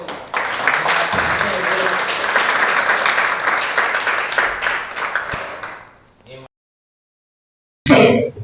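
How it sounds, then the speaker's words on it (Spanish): Applause welcoming a speaker at a talk on Marian dogmas, a full, loud round of clapping from the audience lasting several seconds, thinning out and stopping, followed by a short silence and a brief burst of a voice. "vamos entonces a darle la bienvenida, un aplauso"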